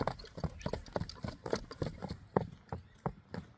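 A horse's hooves clip-clop in a steady, quick rhythm outdoors, moderately close but fairly quiet, with a faint voice now and then.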